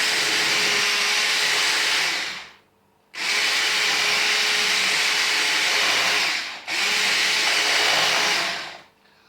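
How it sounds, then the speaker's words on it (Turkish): An electric hand mixer mixing cake batter whirs loudly in three long bursts, stopping briefly between each, with a steady motor drone and no talking. "Anneciğim mikserle karıştırayım mı? Karıştırıyoruz."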